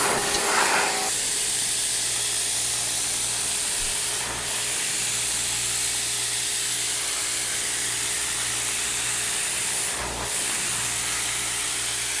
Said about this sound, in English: If you have a bag that doesn't ever seem to fill fully, pressure wash it.